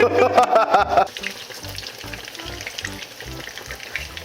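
Fish cutlets frying in hot oil, a close, steady crackling sizzle that is loud for the first second and then settles into a quieter bubbling, with no voices.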